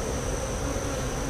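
Honey bees buzz in a dense, continuous hum during a hive inspection, a steady drone close by with no voices.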